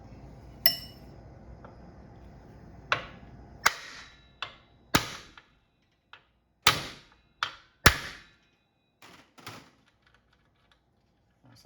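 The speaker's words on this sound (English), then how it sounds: "Thread a nut on, grab a punch and a hammer." A hammer strikes a punch to drive a wheel stud out of a Toyota 4Runner 8-inch axle hub during a wheel bearing rebuild, giving about ten sharp metallic knocks spaced irregularly and close by, with quiet gaps between blows.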